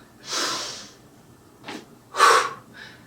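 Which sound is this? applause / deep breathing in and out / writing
deep breathing in and out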